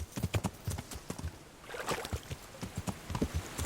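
Horse hooves clip-clop in the video game Kingdom Come: Deliverance, in a quick, uneven rhythm, with a brief scuffling pause midway before the hoofbeats resume.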